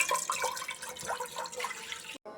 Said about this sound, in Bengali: এখন পাতিলে ঢেলে দিচ্ছি।